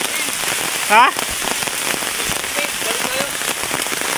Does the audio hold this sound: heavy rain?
yes